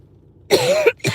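Two harsh, close coughs in quick succession after a moment of quiet, the first longer and raspy, the second a short follow-up hack.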